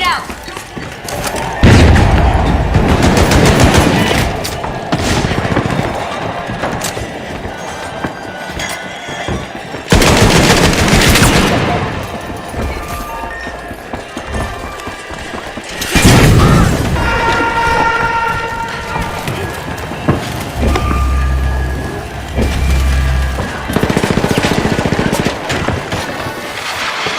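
Frag grenade blast and bursts of gunfire in a video game, loud booms and rattling shots recurring over a long stretch of combat, with a voice talking in places.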